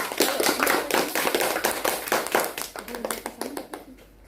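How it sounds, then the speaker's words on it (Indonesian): Hands clapping in a school catechesis class, a dense burst of applause from a group that tapers off over several seconds. "Oke, kita berikan tepuk tangan untuk Sinta."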